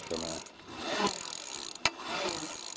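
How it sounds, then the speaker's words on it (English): A DIY geared wind turbine built from a 36V DC bike motor, cranked slowly by hand, gives off close dry rubbing and ratcheting mechanical clicks in uneven bursts, with one sharp knock partway through. "I'm just going to crank it slowly by hand"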